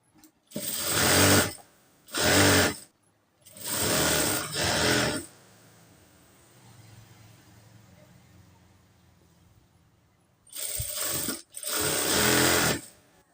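Sewing machine stitching a nighty, running in short bursts of fast mechanical whirring with pauses between, close and loud; quieter handling noise fills a longer gap in the middle.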